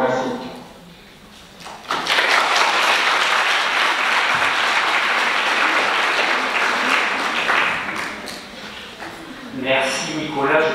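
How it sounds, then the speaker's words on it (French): An audience applauds at a conference on destination competitiveness: a dense burst of clapping starts after a quiet pause, holds strong for several seconds, then fades, with talk resuming near the end. "Merci Nicolas, je pense que tu as entendu les applaudissements."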